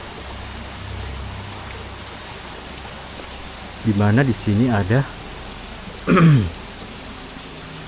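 Steady rain falls at a spring bathing site, a soft continuous hiss of drops throughout, with someone speaking briefly over it midway.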